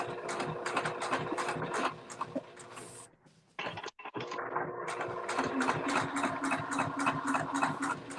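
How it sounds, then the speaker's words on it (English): A Juki TL18 industrial straight-stitch sewing machine running in rapid, even bursts of needle clatter, pausing briefly midway before resuming at a steady fast pace, close and fairly loud. "I have a Juki TL18. So it's a straight stitch like quilting machine"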